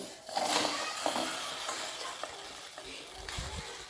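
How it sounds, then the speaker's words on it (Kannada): Okra dropped into a hot pan for a palya, sizzling and frying with scattered stirring scrapes and clicks, a soft continuous hiss under brief utensil knocks, fairly quiet and close. "ಆಮೇಲೆ ಬೆಂಡೆಕಾಯಿ ತಗೊಂಡು ಹಾಕಬೇಕು"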